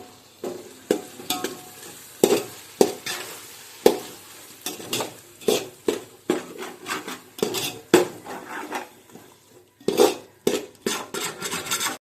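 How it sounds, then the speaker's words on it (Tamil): A spoon stirs yogurt into vegetable dum biryani in a metal pot, giving repeated close scraping clinks and soft sizzling in an uneven rhythm, with no talk. "இப்போ நல்லா கலந்து விட்டுக்கலாம்."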